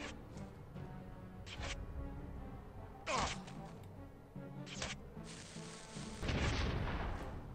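Several deep booming shots from a game cannon, spaced irregularly over a steady background of game noise, with one louder blast near the end.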